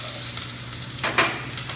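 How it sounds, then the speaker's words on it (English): Chopped onions hit hot oil in a saucepan, giving a steady, close sizzle with a brief louder burst partway through as they are tossed in; no voices. "I'm going to toss in some onions."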